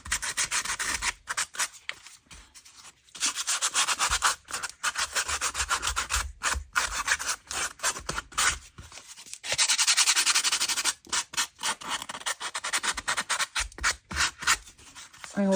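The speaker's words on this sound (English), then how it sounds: "So if I just use some sandpaper, just want to take off the excess really." Fine sandpaper rubbed along the edge of a handmade junk journal cover, a close, steady series of dry scratchy strokes with brief pauses, continuing throughout with no voices.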